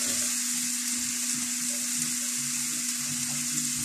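Spices fry in a pan with a steady, close hiss and sizzle, with faint stirring scrapes underneath and a low constant hum, and no talking.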